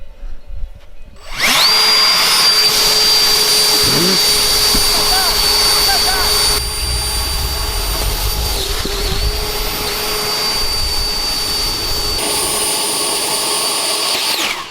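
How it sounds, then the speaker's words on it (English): Electric SpaceX-style rocket runs at full thrust as a loud, steady, high-pitched motor whine that starts abruptly and holds for over ten seconds, with a short faint stretch of sound before it. "Rocket Challenge Part 2, full thrust, no tests."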